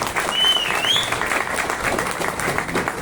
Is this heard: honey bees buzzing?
no